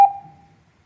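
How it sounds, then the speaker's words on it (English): A single short electronic timer beep marks the end of a one-minute public comment period at a county commission meeting, sharp and loud at onset, then a brief fading ring. "there a reason for that beep?"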